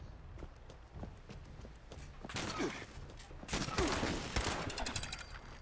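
Gunfire from a gun in the video game Nuclear Cowboys, a quiet run of sharp shots and clattering bursts, growing denser toward the end.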